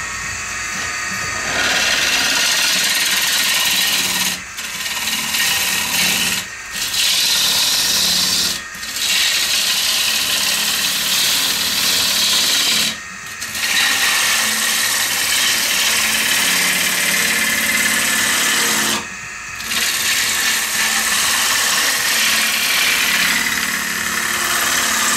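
A wood lathe spins a bowl blank as a chisel cuts into it, giving a loud, continuous scraping roar in long passes, broken by brief pauses when the tool lifts off the wood.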